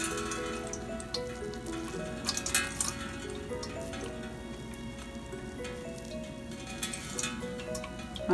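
Water drains slowly from paneer through a strainer, making quiet trickling and dripping sounds over a steady tonal hum in the background.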